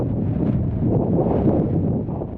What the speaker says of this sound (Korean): 바람이 불어도 너무 분다